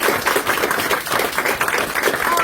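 Audience applause at a live performance event: steady, dense clapping from a crowd, fairly loud and continuous throughout.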